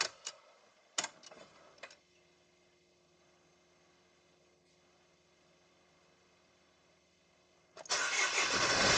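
A Mercedes Vito van sits idling faintly with a steady hum after a few sharp clicks. Near the end its engine cranks and fires, loud and close, and then runs on strongly.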